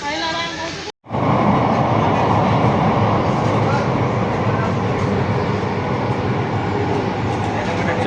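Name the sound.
metro train passing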